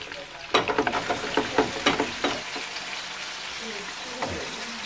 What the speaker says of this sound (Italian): salsicce, e facciamo rosolare il tutto.